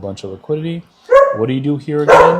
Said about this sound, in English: oh, excuse me, that was my dog.